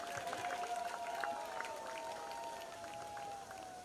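A crowd at an outdoor Juhu Beach clean-up event applauds and cheers for Amruta Fadnavis, a steady wash of clapping under a sustained tonal hum, moderately distant and fairly even throughout.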